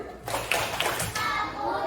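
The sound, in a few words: appreciation clap by children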